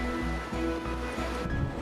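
Rough surf rushes steadily with a broad, constant wash and low, rolling surges beneath it. No voices are heard.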